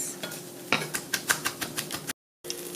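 Meat bits caramelizing in a pan for a bordelaise sauce, heard as a steady close sizzle broken by a series of sharp clicks and scrapes of a utensil stirring against the pan, then a brief cut to silence before the frying resumes.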